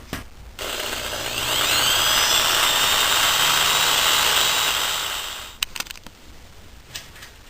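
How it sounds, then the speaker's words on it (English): A power drill whirs up to a steady high-pitched whine for several seconds while drilling a hole in a Volkswagen timing belt oil seal, then winds down, followed by a few clicks and clatters. "I'm going to drill at least one hole"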